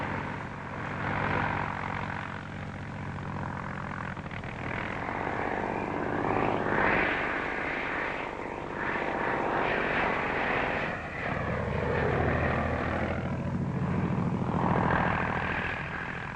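A propeller plane drones steadily in flight, a loud continuous engine hum with slight swells, with no talking.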